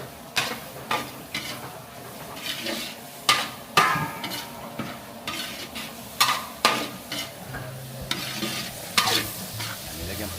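Onions fry in a large cooking pan for a big farm feast, a steady sizzle punctuated by repeated sharp clanks and scrapes of a ladle stirring against the metal, heard close with no talking.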